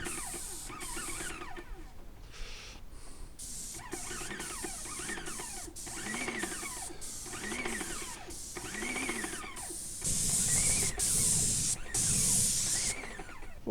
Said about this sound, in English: Let this dry for a bit and let the gun sit here. We'll shoot it again.